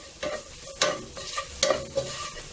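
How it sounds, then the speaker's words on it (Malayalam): Chicken filling with spices being sautéed in a pan for bakery-style chicken cheese rolls, with a steady sizzle and a spatula stirring and scraping at a regular rhythm, close and clear, with no talk. "ഇനി നന്നായിട്ട് അങ്ങ് വഴറ്റി കൊടുക്കാം."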